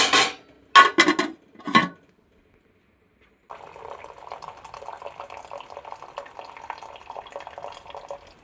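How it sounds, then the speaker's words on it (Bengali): Water running steadily from a tap for washing clothes outdoors, a soft continuous splash after a few brief clatters and knocks at the start. "জামা প্যান্ট ধুতে চলে এসেছি, এই যে কলে"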